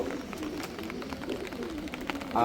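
A male pigeon coos steadily and close by in the rain, its low rolling calls running almost continuously, with a louder burst of noise at the very end.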